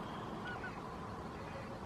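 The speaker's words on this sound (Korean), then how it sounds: "갈매기가 날아다니고 있고요. 새소리도 들리고" Seagulls and other birds call over Anheung Reservoir in Taean on a calm, overcast morning at a fishing spot. A couple of brief, faint calls sit over a steady outdoor background hiss, with no one talking.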